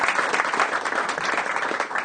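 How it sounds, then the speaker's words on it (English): A conference audience breaks into a short burst of applause, dense and continuous clapping from a crowd filling the whole moment without talk. "Quick round of applause."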